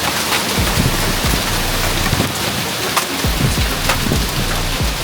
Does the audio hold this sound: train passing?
no